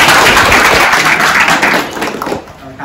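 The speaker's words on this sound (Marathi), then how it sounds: "टाळ्या व्हायला" Applause from an audience at an academy gathering, a dense, loud wash of many hands clapping that carries on steadily before easing off slightly toward the end.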